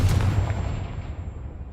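A Confringo fire spell explodes in the Hogwarts Legacy video game: a deep, loud booming blast that rolls off and fades over about two seconds.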